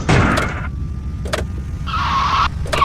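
A Tesla Cybertruck in a car crash video game makes bursts of tire skidding and scraping noise, loud and close, separated by short quiet gaps with a faint steady engine tone underneath.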